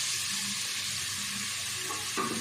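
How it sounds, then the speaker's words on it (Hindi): Minced meat (keema) frying in hot ghee in a pan on the stove: a loud, continuous hissing sizzle runs unbroken from start to finish, close up, with no voices. "घी गरम हो गया, अब इसमें डाल देंगे कीमा।"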